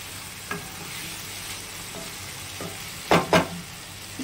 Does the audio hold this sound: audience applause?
no